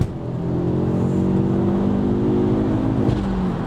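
Ford Focus RS Mk2 with roughly 150,000 miles, engine revving as it accelerates, a loud steady rising drone heard from inside the car without talk.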